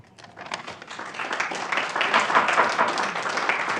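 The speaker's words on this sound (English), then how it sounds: "Please refrain from applause" An audience at a town council meeting breaks into applause, starting with a few scattered claps and swelling into dense, steady clapping, with some voices mixed in.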